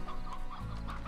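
Hens clucking in the video game Slime Rancher, a short run of close, soft clucks over a faint background hum.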